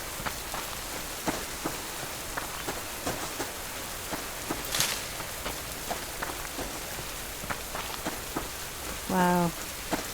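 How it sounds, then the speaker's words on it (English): Steady rain falls throughout a wet outdoor scene in the survival game Subsistence, a dense even patter with scattered louder drops, and one short tonal game sound near the end. "I would really like this rain to stop."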